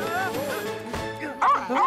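Small cartoon dog yipping and barking from a children's animated rescue-vehicle show, short excited yaps mixed with music and voices, louder near the end.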